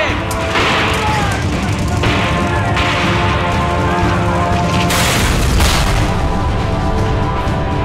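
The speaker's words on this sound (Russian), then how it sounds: "Стреляем вверх!" Gunfire in a battle scene from a Russian film, with dense, loud, sustained bursts of shots and booms over a continuous roar of combat noise.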